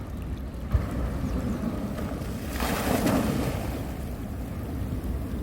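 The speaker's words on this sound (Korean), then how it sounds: "여기 물이 넘어오는데요 바위 사이로 이렇게 넘어오는데요" Sea water surging and washing over coastal rocks at Yeonggeumjeong at dawn, a steady broadband rush that swells louder toward the middle of the clip, with wind buffeting the microphone and no voices.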